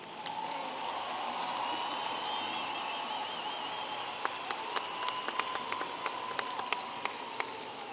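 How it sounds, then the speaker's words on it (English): A large audience at a university commencement applauds steadily at a distance, a continuous wash of clapping with a few sharper claps standing out near the end. "please join me in a round of applause"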